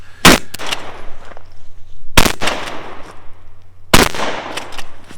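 Three sharp, loud gunshots ring out about two seconds apart during a timed stage of a shooting competition, with faint movement and shuffling noise between the reports.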